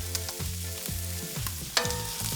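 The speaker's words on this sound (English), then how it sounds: "Now add the frozen peas and carrots." Frozen peas and carrots fry in a pan for fried rice, a close, steady sizzle under a tonal background hum, with a sharp clatter near the end.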